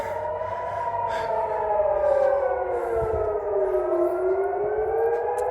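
Wartime air raid siren wailing from a distance, its pitch slowly rising and falling in a long continuous sweep over faint outdoor background noise.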